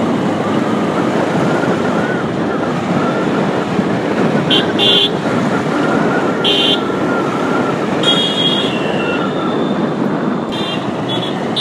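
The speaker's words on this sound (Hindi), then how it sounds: "गाड़ियाँ निकल रही हैं भाई" Steady stream of vehicles crossing the new Bailey Road bridge in Patna, a continuous loud traffic roar with a few brief horn toots breaking through near the middle and end.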